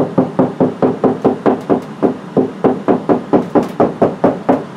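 Knuckles rap a hollow drywall section while hunting for a stud, giving an even series of about fifteen close, resonant knocks in a steady rhythm.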